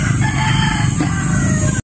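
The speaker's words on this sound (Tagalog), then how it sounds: "daming manok oh" A rooster crows loudly and close by, one long call with chicken clucks around it, cutting off abruptly.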